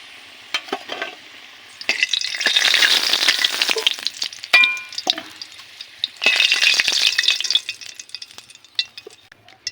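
Potatoes fry in oil in a wok, with loud bursts of sizzling that rise and fade in two main waves, broken up by sharp utensil clinks and scrapes close by.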